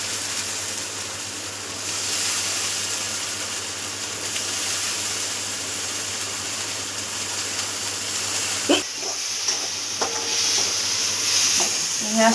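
Green peas go into masala frying in hot oil, a soft continuous sizzle with light stirring scrapes and a few sharper clinks near the end.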